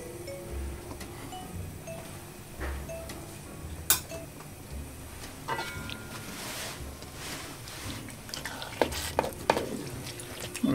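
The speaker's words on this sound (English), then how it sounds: "We're going to give that a good stir in now." A spoon stirs cream and butter through Brazilian beef stroganoff in a pan, with soft scraping, low simmering and scattered clinks of metal against the pan rim, some sharper taps near the end.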